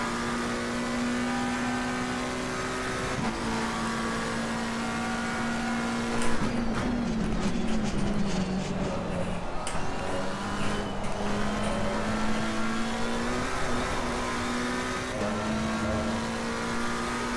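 A McLaren race car in Assetto Corsa Competizione at Monza, engine droning steadily near and loud, with the pitch dipping and climbing through gear changes and throttle lifts around the Ascari section, alone without talk.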